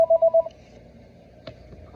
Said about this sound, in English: Oops, the phone is ringing.